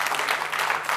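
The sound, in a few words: audience applause on a game show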